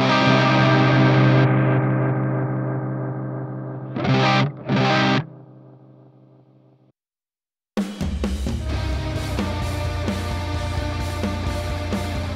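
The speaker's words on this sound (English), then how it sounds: "Here, the blue loop with the delay is set up for trails." Distorted electric guitar through a MIDI-controlled loop switcher with a delay in the loop, its echoes trailing and fading after the loop is switched off, then a brief silence before loud distorted strumming resumes.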